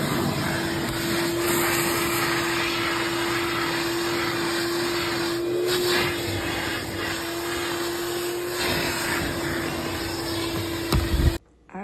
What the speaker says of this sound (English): So I vacuumed everything out